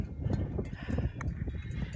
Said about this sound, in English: we let the horses go by